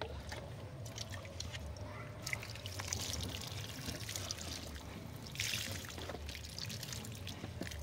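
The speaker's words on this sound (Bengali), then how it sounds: "এবার আমি জলটা দিয়ে দেবো।" Water is poured onto a freshly repotted gladiolus plant, a soft continuous trickle and splash with a brief stronger gush midway, close and fairly quiet.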